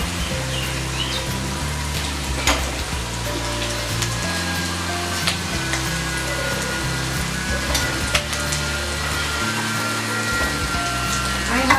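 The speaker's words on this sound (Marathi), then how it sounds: "हे आपण मध्ये मध्ये परतत राहायचंय. थोडं आलं लसूण पण भाजलं गेलं पाहिजे आणि थोडं कांदा आणि भोपळी मिरची सुद्धा भाजली गेली पाहिजे." Ginger, garlic, onion and capsicum sauté in a pan for chicken chilli, giving a steady, close, crackling sizzle with scattered pops and occasional scrapes of stirring throughout.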